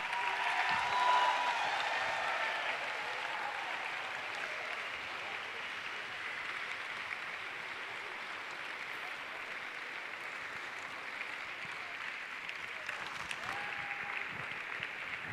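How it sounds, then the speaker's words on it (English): Audience members at a yoga session applaud in a long, steady wash of clapping from across the room, slightly stronger at the start and then holding an even level throughout. "Come on, people, give a little louder applaud."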